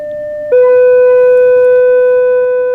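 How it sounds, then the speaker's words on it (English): A cup vibrated by magnets gives off a steady pure humming tone that jumps up in pitch and loudness after a moment, then holds evenly. "it's vibrating because the magnets are vibrating. And so that makes the cup vibrate."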